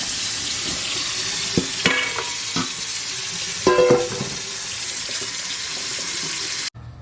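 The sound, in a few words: water filling a bowl of freshly picked wineberries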